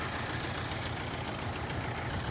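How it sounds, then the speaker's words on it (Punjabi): A tractor engine idles steadily just after starting, a continuous low rumbling drone with an even rhythm throughout and no voices over it. "ਸਟਾਰਟ ਹੋ ਗਿਆ ਟਰੈਕਟਰ।"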